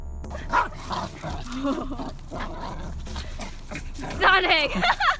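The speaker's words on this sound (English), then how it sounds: "This dog's name is Sonic." A dog barks and yips in a few sharp bursts during an encounter with a snake outdoors, mixed with excited human voices and background noise.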